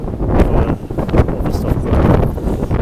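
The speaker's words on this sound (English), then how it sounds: "if you can hear the wind, it's a bit windy out here as you can tell" Gusty outdoor wind buffets a microphone in continuous low roaring rumbles that stay loud throughout, with no other sound standing out.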